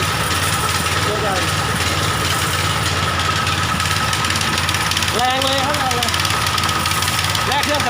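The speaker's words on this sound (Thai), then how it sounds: "เครื่องยนต์สตาร์ทง่ายแน่มากเลย และเครื่องแน่น" A 7-horsepower engine drives a used Japanese Maruyama 1.2-inch high-pressure sprayer, running steadily and loudly throughout with a constant droning hum, while someone talks over it.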